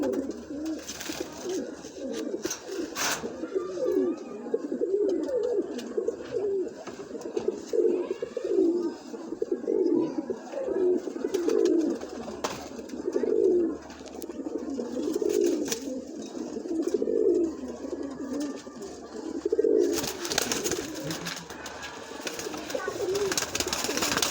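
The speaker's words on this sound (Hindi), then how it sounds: "ये फ्रांसीसी कबूतर है, इसका शौक करें।" French pigeons coo steadily in a low, throaty rhythm in Islamabad, Pakistan, repeated calls rolling on for the whole stretch, with faint background noise and a brief rustle near the end.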